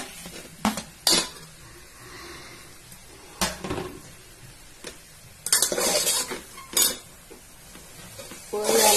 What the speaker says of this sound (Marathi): याला मी फास्ट गॅसवर जरा चांगले हलवून घेणार आहे।